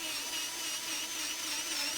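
A power tool spins a cutter trimming a brass cartridge case seated in a trimming die, a steady high-pitched whine held close and loud without break.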